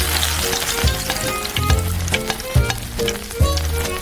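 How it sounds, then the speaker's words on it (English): Onion and ginger fry in an oiled pan with a loud, steady sizzle close by, while a rhythmic scraping pulse from stirring repeats roughly every second throughout, with no talk. "Grease the frying pan with oil and fry the onion and ginger."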